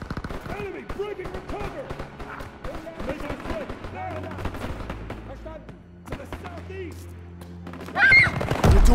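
Call of Duty: World War 2 battle in Aachen, Germany, with repeated rifle and machine-gun bursts at varying distances and heavier booms, while voices talk over the firing.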